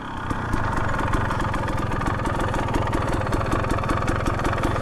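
A Husqvarna TE 250 dirt bike with a TSP tune and FMF exhaust runs at a steady, close idle, its rapid rhythmic firing pulses loud and even throughout, with no voices.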